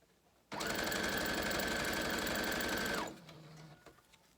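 Sewing machine stitching fabric for a seal-shaped circus toy, one loud continuous run of rapid whirring lasting about two and a half seconds before winding down and stopping.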